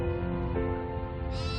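Sheep and goats bleat continuously in a close, dense chorus, with overlapping calls from a herd kept by nomadic herders.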